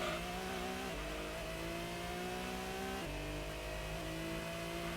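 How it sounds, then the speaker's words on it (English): A race car engine in the Gran Turismo 1 video game revs loud and steady, a droning buzz that shifts pitch at gear changes, with no voices. "the engine sound effect sounds like some out of 2008"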